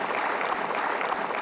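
Steady applause from a studio audience at an Indonesian talk show, a dense, even wash of clapping that stays constant and moderately loud throughout.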